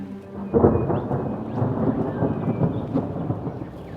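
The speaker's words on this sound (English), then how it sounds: "Storm's coming in." Heavy rain patters steadily on a campsite in Victoria's High Country, Australia, while deep thunder rumbles close by, swelling and rolling on without a break; no one speaks.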